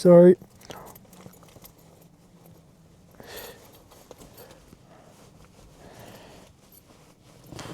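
Keys jangling near a 4th gen Toyota 4Runner: a short loud metallic jingle at the start, then softer clinks and rustling with someone talking quietly.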